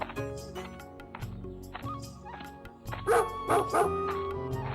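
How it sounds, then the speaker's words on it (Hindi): Dogs in a village at night bark and yip in a run of short, fairly close barks, with some whimpering yelps and a louder cluster of barks near the end. "सिर्फ कहीं कहीं कुत्तों के भौंकने की आवाज आ रही थी"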